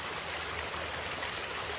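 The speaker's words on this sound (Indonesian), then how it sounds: "Air terjun Nglirip memiliki ketinggian kira-kira 30 meter dan lebar kira-kira 20 meter." Nglirip waterfall near Bojonegoro, roughly 30 metres high and 20 metres wide, heard as a steady, dense rush of falling water, moderately loud and even throughout, with no voices.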